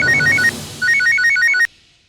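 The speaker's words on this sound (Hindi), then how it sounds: "अरे पवित्र वंदना भाभी के पापी पति का पुनश्च फोन, वो भी परम पूज्य जोशीपुरा को।" A telephone rings indoors in two bright electronic trills, separated by a short pause, loud and close, then cuts off abruptly.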